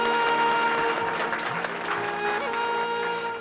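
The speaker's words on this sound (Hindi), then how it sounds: "अपने लिए ताली बजा ली." An audience at an International Yoga Day session at an officers' club in Varanasi claps for itself after finishing a series of poses, a brief burst of moderate applause over steady tonal background music that fades slightly at the end.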